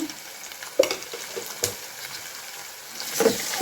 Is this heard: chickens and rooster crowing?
no